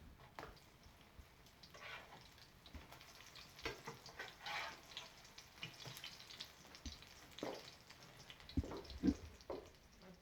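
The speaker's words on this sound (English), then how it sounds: "I'm going to dump them in and then let them fry." Carrot fritter batter frying in hot oil: a faint, sparse crackle and soft bubbling with scattered pops, quiet throughout and growing a little busier toward the end.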